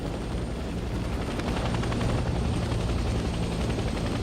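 A helicopter in a Vietnam War video game roars steadily, with a dense, continuous rotor thump and engine wash at constant loudness throughout.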